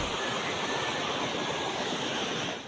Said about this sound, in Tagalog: Umapaw kasi ang ilog at mga kanal kaya agad binaha ang mabababang lugar.